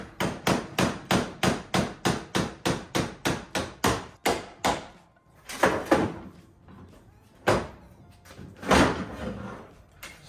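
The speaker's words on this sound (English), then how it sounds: "You just gotta knock out this pin" A hammer knocks out a metal pin on a Minn Kota trolling motor in a rapid run of sharp, evenly spaced blows, then pauses before a few heavier, slower knocks close by.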